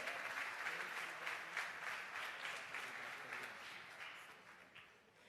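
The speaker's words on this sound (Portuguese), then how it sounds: "Você pode aplaudir ao Senhor" A church congregation breaks into steady, loud applause that fills the room, slowly fading slightly toward the end.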